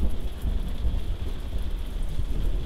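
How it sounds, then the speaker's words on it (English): Steady rain falls through a thunderstorm, with a deep low rumble beneath a constant hiss, loud and close throughout, without speech. "kicked me outside in a thunderstorm"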